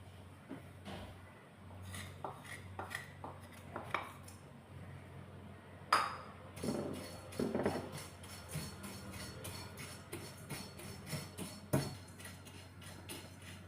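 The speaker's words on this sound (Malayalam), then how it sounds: "ഇനി ഈ അവൽ ഇതിലിട്ടൊന്ന് ചെറുതായിട്ടൊന്ന് ചൂടാക്കിയെടുക്കാം" Flattened rice (aval) being heated and stirred in a pan over a low flame, with soft scraping and clinking of a spoon against metal in a quiet kitchen, louder scrapes clustered in the middle.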